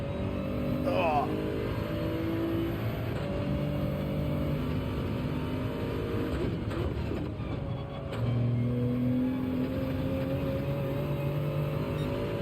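A Toyota Supra races at Road Atlanta in Gran Turismo 7, its engine droning and shifting pitch as it accelerates and brakes through corners, continuous under a speaking voice.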